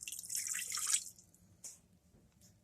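Water poured from a cup into a pot for mac and cheese makes a brief, bright splash that trails off into a few faint drips and small splashes, quiet and close.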